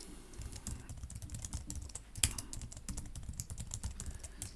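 Rapid, close clicking on a computer keyboard, a continuous run of quiet keystrokes with one louder tap near the middle, no talking.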